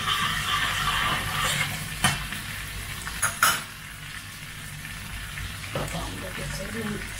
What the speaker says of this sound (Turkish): Şöyle sosun içerisine sıcak su ilave ettim